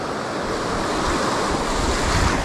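Strong sea surf at a rocky fishing shore, a steady broad wash of breaking waves with wind buffeting the microphone throughout, loud and continuous with no talking.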